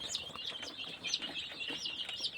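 Baby chicks chirp while being vaccinated against Newcastle disease and infectious bronchitis, with drops given into the nose and eye. Their thin, high peeps repeat quickly and irregularly, fairly faint and close by, with no talk over them.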